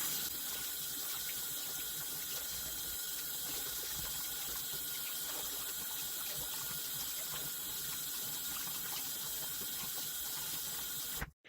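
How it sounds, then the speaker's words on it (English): Hot tap water runs steadily over paint brushes being rinsed clean, a loud continuous hiss and splash lasting about eleven seconds before cutting off abruptly, with no talking. "you can clean these rolling dog brushes just with a little bit of hot water"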